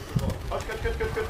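Racing pigeons at a loft in Kalisz, soft cooing and fluttering heard briefly beneath someone talking in Polish over low background noise.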